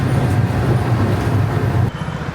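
A Budapest metro train rumbles loudly and steadily at close range, a dense low roar of rolling wheels that drops off abruptly near the end.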